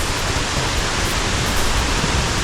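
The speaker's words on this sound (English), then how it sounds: "We're going down there to that waterfalls." Waterfall in the Kalinago Territory rushing in a steady, loud broadband roar that stays constant and close with no pauses and no voices.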